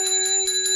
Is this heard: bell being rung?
yes